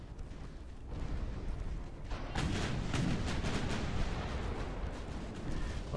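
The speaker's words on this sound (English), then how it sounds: "That's a lot of armored cruisers shooting at you, too." Armored cruisers fire their guns in the naval warfare game Ultimate Admiral Dreadnoughts, a continuous rumble of distant booms and thuds layered over one another, growing heavier after the first couple of seconds.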